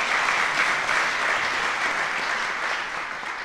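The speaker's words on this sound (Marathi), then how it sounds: "तर या जपानी कलाकाराचं आपण टाळ्या वाजवून कडकडाटात स्वागत करू." Sustained audience applause fills a hall at the 2012 Aundh Sangeet Mahotsav classical music festival, welcoming a Japanese sarangi artist; dense, steady clapping from many hands that tapers slightly near the end, with no talking.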